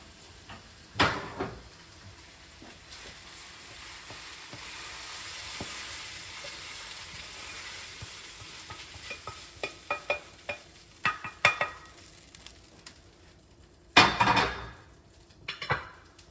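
Cooked meat being stirred into chili in a pot, with a steady soft scraping and sizzle building midway, scattered clinks of spoon against the pot, and a couple of louder clanks near the end; no talking.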